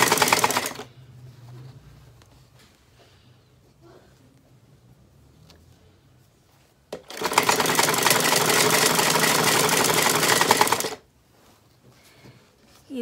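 A sewing machine runs a straight stitch along a folded leggings casing for threading elastic, first with a brief burst, then after a quiet stretch a loud continuous run of about four seconds before stopping.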